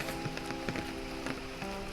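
Heavy rain pours steadily during a birding outing among pine trees in northern Thailand, a dense continuous hiss with a few sharper drops hitting nearby surfaces, no talking.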